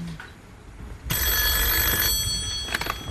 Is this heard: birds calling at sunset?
no